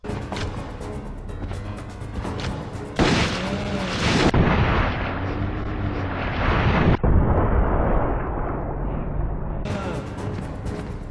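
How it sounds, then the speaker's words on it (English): Magnum revolver fired for an explosive headshot on a standard zombie in the video game Resident Evil Outbreak, heard as loud booming gunshot blasts over a continuous game soundscape, with no voices. "do a critical pot shot with Kevin on a standard zombie in easy mode for maximum damage and explosive headshot"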